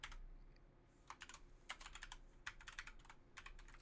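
Rapid bursts of clicking on a computer keyboard, close and fairly quiet, come in irregular clusters of keystrokes with brief pauses between them.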